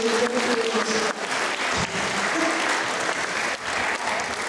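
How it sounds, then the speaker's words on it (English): At a sea lion show in a safari park, a crowd applauds loudly and steadily, a dense wash of clapping with a few voices and faint calls mixed underneath. "Give them both a big round of applause"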